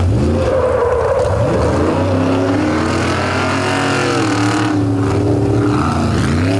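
Tough trucks, including Warhorse and Foytoy, race for the Tough Trucks Championship. Their engines roar loud and close the whole time, rising and falling in pitch as they rev and accelerate through the course.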